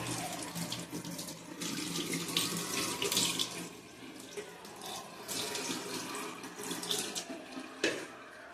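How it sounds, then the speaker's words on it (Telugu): Tap water running steadily into a sink while lentils are washed by hand, a close, splashing flow with small bumps and a brief clatter near the end, no talking. "ఇలా 2 సార్లు కడిగిన తర్వాత మంచినీళ్ళు పోసి పెడదామండి."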